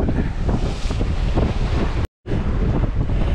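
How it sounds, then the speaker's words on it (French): Loud, buffeting wind of about 15 to 20 knots roaring across the microphone on a sailboat, with rushing water beneath, continuous apart from a brief dropout. "15 nœuds de vent"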